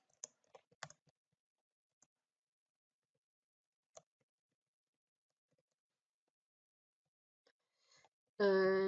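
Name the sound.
typing a post on a computer keyboard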